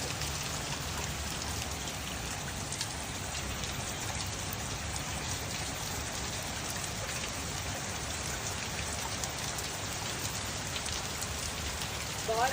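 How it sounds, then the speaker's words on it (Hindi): Rain falls steadily on a surface as a dense, even patter that fills the whole stretch without a break. No voices are heard over it. "बारिश, बहुत मजे की बारिश।"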